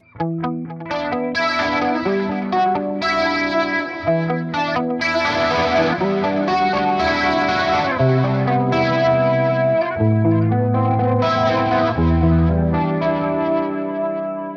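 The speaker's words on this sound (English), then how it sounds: "presets that have kind of like spacey or experimental guitar tones" Electric guitar chords ring out heavily processed with chorus, distortion and echo from a spacey guitar effects plug-in preset, giving a washy, spacey sustained tone throughout.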